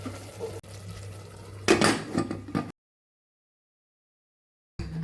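The metal lid of a pressure cooker is fitted and closed over a mixed vegetable curry with water, giving a short burst of clanking and scraping close by before the sound cuts off.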